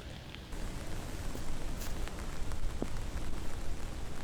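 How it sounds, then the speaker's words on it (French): Rain falls steadily across an outdoor disc golf course, a dense even hiss of drops on the ground and foliage that swells slightly after the first half second and holds at a moderate level, with no voices. "Bon, là, avec la pluie, forcément, ça met une toute autre ambiance qui est aussi sympa."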